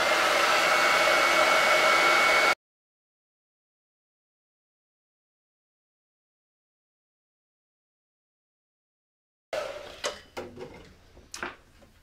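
Hair dryer-style blower drying a chalk transfer on a silkscreen, a loud steady whoosh for about two seconds that cuts off, followed later by scattered clicks and handling knocks.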